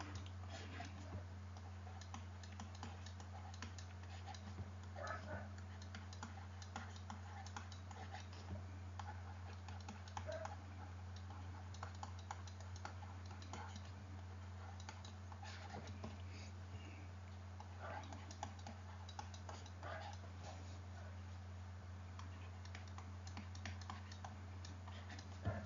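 Keyboard typing runs steadily throughout as a sentence is written out, a soft continuous patter of key clicks over a low constant hum, with no talking.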